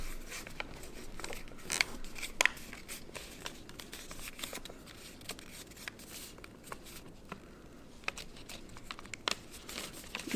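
Origami paper being creased and folded into an elephant, with soft crinkling, rustling and occasional sharp crisp taps, close and fairly quiet, with no talking.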